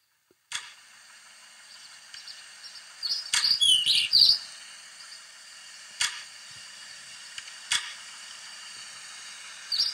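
Small birds give brief high chirps and twitters, clustered in a short flurry, then scattered single sharp clicks over a faint steady hiss.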